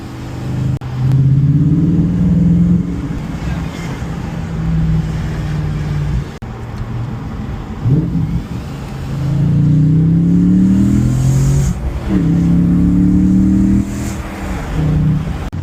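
An Audi B7 RS4 with its 4.2L V8 revs hard on the road, rising through loud, throaty pulls and dropping back between gears in repeated waves heard from inside the car.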